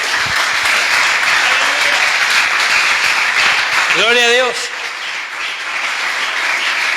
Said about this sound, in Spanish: Dale un fuerte aplauso a que vive.